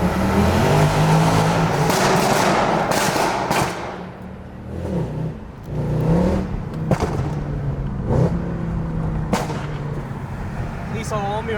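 Mercedes W204 C63 with modified exhaust revving inside a tunnel, loud echoing bursts and crackles rising and falling in several throttle blips, with no talk over it.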